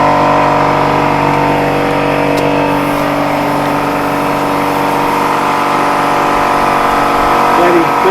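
A riding lawn mower's engine runs steadily and loudly throughout, a constant close drone with a smooth tonal hum. Voices talk over it.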